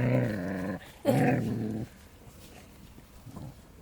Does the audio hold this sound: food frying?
no